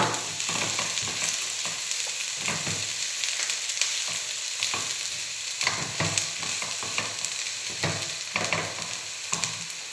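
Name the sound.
finely chopped shallots sweating in butter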